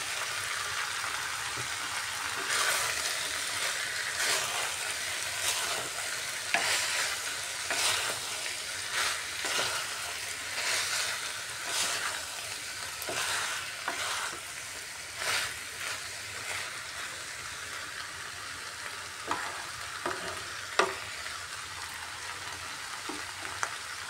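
Kabuli chickpeas and chicken frying for ghugni, a steady close sizzle broken by repeated scraping stirs of a spoon against the pan.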